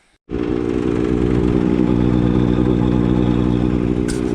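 Yanmar engine driving a pump on a tanker setup, idling at low revs after starting up: a loud, steady, throbbing mechanical chug that kicks in abruptly and runs evenly, close by.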